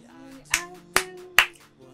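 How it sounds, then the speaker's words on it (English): Three crisp, evenly spaced claps punctuate a Kaiju No.8 anime song, standing out sharply over sustained melodic tones. "I love the clapping"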